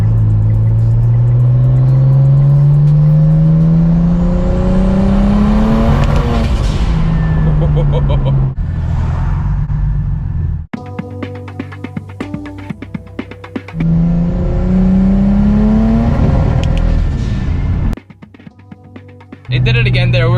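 A turbocharged BMW engine revs up hard, then stutters and cuts out with uneven popping as it breaks up under boost, twice in a row, loud and close.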